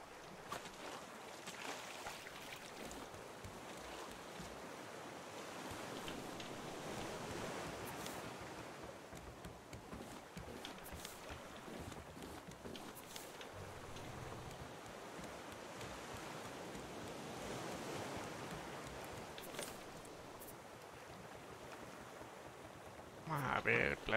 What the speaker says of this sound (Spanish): Madre mía, qué olas.